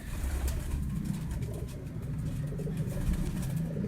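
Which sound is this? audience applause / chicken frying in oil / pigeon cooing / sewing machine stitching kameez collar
pigeon cooing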